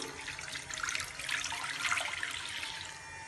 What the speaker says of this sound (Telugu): పోపు వేగిందండి ఇప్పుడు వాటర్ పోసేసుకుంటున్నాను